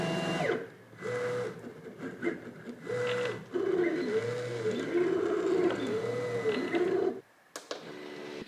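A desktop cutting machine tracing a sticker design, its motor whirring in repeated rising and falling tones with short pauses as the blade changes direction, steady and close, ending with a brief clunk.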